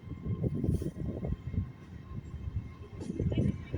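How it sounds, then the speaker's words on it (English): An LNER Azuma express bound for London King's Cross from Edinburgh rumbles through Darlington station, a steady, fairly close low rolling roar of wheels and carriages with the loudness swelling and dipping throughout. "Here goes an LNER Zuma service to London King's Cross from Edinburgh, I think."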